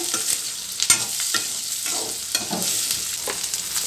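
Cashews fry and sizzle in a pan for mutton curry, with steady hissing broken by scattered stirring clicks and scrapes, close and moderately quiet with no talk.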